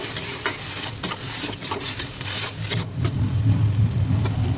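Elephant foot apple and boiled taro pieces frying in a pan for an Assamese fish dish, with a close, continuous sizzle and rhythmic scraping of a spatula stirring them, growing louder toward the end.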